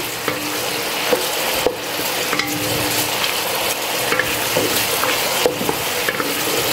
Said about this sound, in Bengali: পেঁয়াজটা আমি ব্রাউন কালার করে ভেজে নেব